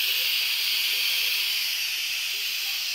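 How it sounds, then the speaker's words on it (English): A pressure cooker vents steam through its released valve as a loud, continuous, even hiss that holds steady without a break. "I can just push this valve over and it'll release pressure"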